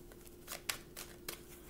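Quiet card shuffling, a few soft riffling bursts of paper cards close by, with a faint steady hum in the background and no talk.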